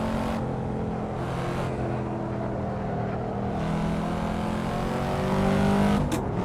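A Corvette C4 ZR-1 V8 in the Assetto Corsa racing game roars steadily under load, the engine note rising and shifting as it accelerates, loud and continuous with no talking.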